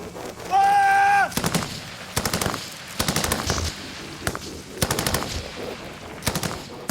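Machine gun fire during combat in Afghanistan with Royal Marines, heard as sharp repeated bursts spread across the scene, loud and close, with a brief tone near the start and shouted voices in between.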